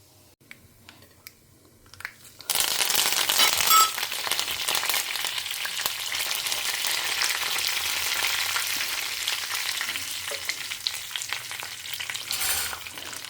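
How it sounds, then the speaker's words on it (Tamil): Mustard seeds and fenugreek hit hot oil and burst into a loud, dense crackling sizzle that begins suddenly after a quiet start and keeps spluttering steadily, with scattered pops, and no talk over it. "இப்போ கடுகு வெந்தயம் போட்டுடலாம் பொரியட்டும்"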